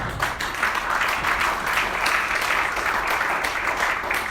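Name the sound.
congregation applauding in church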